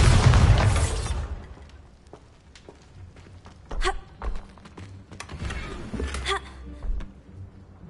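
A Bombarda explosion spell erupts in the video game Hogwarts Legacy, a loud broadband blast up front that decays over a second, followed by scattered thuds, pops and debris clatter.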